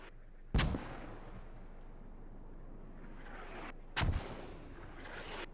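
Two distant booming mortar shots in a multiplayer video game match, spaced a few seconds apart over a quiet low background.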